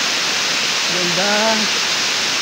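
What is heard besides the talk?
Aruyan Falls waterfall, strong flowing water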